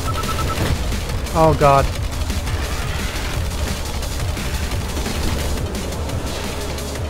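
Gunfire from weapons in the GRIP combat racing video game, heard as scattered bursts and booms over a constant wash of engine and game noise, with a voice briefly exclaiming partway through.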